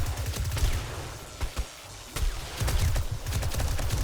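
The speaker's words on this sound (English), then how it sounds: "Because she fires so softly that she'll barely fire at all." Sustained automatic gunfire rages during a snowy night horde fight in 7 Days to Die, loud and close with rapid bursts and brief gaps, the low thumping shots continuing almost without a break.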